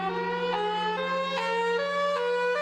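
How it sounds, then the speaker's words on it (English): An alternating wail siren, mixing a high-low two-tone pattern with a rising and falling attack sweep, sounds loud and steady, its pitch stepping up and down every half second or so with no voices. "the alternating wail, which kind of mixes the high-low with the attack mode,"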